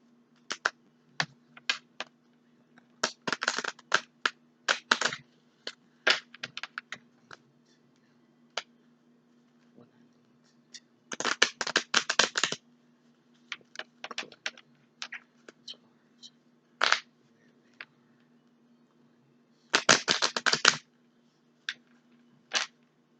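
Cards are shuffled and pulled for a card reading in quiet surroundings, heard as soft, crisp flicks and riffles in short bursts separated by pauses, with no one talking.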